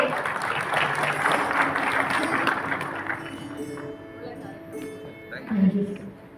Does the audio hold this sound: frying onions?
no